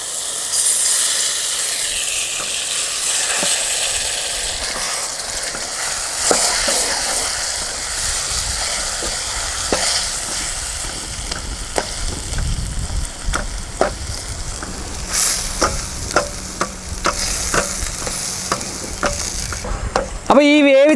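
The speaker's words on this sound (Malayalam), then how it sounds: "അപ്പോൾ ഈ വേവിച്ച തക്കാളിനെയൊക്കെ നമ്മളിങ്ങനെ ഒന്ന് ചതച്ച് വിടുക" Cooked, peeled tomatoes are crushed and stirred in a hot pan to make pizza sauce. A continuous sizzle runs under repeated scraping and clicking of the spoon against the pan, growing sharper toward the end.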